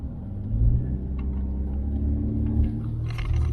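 A 1996 Jaguar XJ6 3.2 cruises on a road, heard from inside as a steady low engine and road rumble with slight swells, fairly loud and continuous, no talking.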